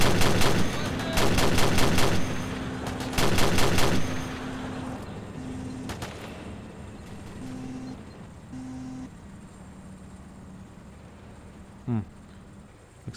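Rapid automatic gunfire from a modern military video game, shooting at an aircraft near an airbase, bursts loudly in repeated volleys early on, then fades to sparse, quieter shots over a background rumble.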